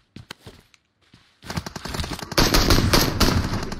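Sniper rifle fire in a video game: a few sparse clicks and soft shots, then a loud burst of rapid, sharp gunshots that grows denser and louder toward the end.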